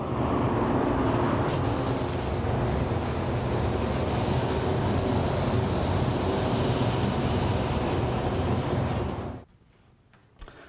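A spray gun lays the final candy pearl coat onto a drag racing boat, giving a loud, even hiss for about nine seconds before it cuts off abruptly into near silence.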